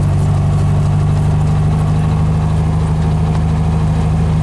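A 1776 single-port engine idles steadily in a car, with the carburetor untouched and a slightly soft throttle return spring. It gives a loud, even, low rumble with a constant hum that holds through the whole stretch, and no one speaks.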